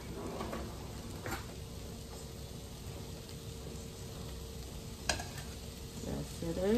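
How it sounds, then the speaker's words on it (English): A pot of potatoes bubbles and hisses on the stove in a steady, close simmer, with a few light clinks. "This is my potato over here boiling."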